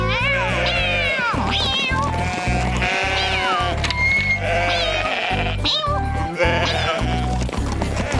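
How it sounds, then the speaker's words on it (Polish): Sheep bleating in a Polish-dubbed Postman Pat cartoon as a vicar and a sheepdog drive the flock back to the meadow. Repeated wavering bleats overlap one another over a steady musical backing and stay loud throughout. "Pora ruszyć te owce."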